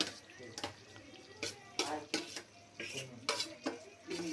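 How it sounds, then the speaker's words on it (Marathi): Mixed vegetables are added to a Kolhapuri-style gravy and stirred in a cooking pot, giving a series of sharp metallic scrapes and clinks in an irregular rhythm, close and fairly quiet, with faint wet mixing sounds between them. "आता ह्या ग्रेव्हीमध्ये आपण हे जे मिक्स व्हेज होतं ते आपण त्याच्यामध्ये घालणार आहे"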